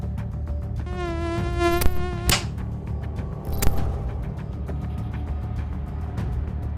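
A mosquito whines in a high, thin buzz that rises and fades as it drifts past. Light sharp clicks and taps sound over a steady low background.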